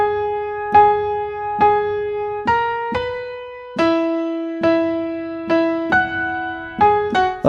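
Piano chords from a song played slowly one after another, each sustained and ringing before the next, close and clear with no talking.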